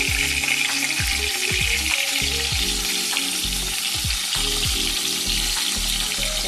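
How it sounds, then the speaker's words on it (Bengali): Lote (Bombay duck) fish frying crisp in hot oil for chilli loitta: a loud, dense, continuous sizzle close by, with repeated low thuds and scrapes of a spatula turning the pieces, no voices. "লোটে মাছগুলো আমি ভেজে নিলাম, দেখো সেরকম আওয়াজ হচ্ছে"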